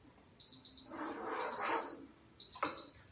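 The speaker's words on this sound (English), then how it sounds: "there's my timer" A kitchen timer goes off while candy cooks, three bursts of rapid high-pitched beeping, with a cooking hiss swelling between the bursts.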